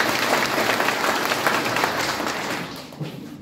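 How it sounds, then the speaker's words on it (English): Audience applause at a Kisii teachers' gathering, a dense steady burst of many clapping hands that fills the room, then gradually tapers off toward the end. "Please, one round of applause for"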